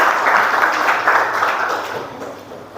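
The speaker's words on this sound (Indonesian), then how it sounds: "Tepuk tangan untuk Alvarez." A school class applauds a student in an Islamic studies lesson, giving a dense, loud wash of many hands clapping together that tapers slightly toward the end.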